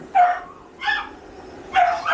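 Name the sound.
dog barking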